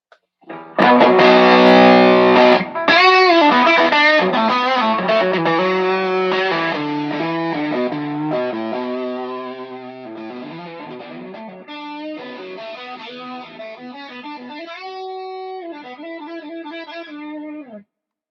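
An electric guitar through a Boss Waza Craft Tone Bender FZ1 fuzz pedal plays thick, buzzing chords and sustained notes, loud and up front, with no voices.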